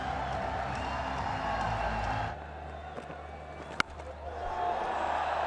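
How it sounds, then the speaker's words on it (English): A cricket crowd at a Pakistan versus West Indies one-day international cheers a batsman's first ODI fifty, a broad roar that dips partway through with a sharp crack, then swells again beneath commentary. "Raises his bat to the crowd for a huge cheer"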